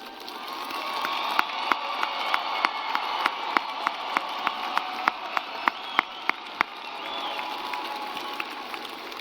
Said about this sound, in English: Please join me in giving our graduates one last round of applause.